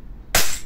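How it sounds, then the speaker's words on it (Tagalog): A Double Bell VSR10 airsoft sniper rifle fires a single shot during a velocity test: a sudden sharp crack after a brief quiet moment, then a short fading tail. "FPS test, firing."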